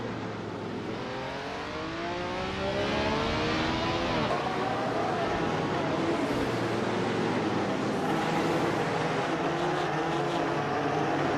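Race cars roar through a racing video game with sustained, loud engine tones and rising and falling pitch sweeps as cars overtake, a dense continuous whine throughout.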